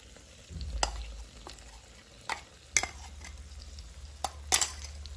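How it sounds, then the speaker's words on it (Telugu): Eggplant curry masala being stirred and fried in a pan: a steady low sizzle runs throughout, punctuated by several sharp scrapes and clinks of a utensil against the pan, with no talk. "మసాలా అది బాగా ఫ్రై అయింది."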